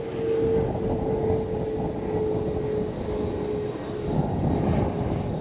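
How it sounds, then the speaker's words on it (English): A loud airplane drones overhead, a steady roaring engine hum that holds throughout with no other sounds. "let this plane go by."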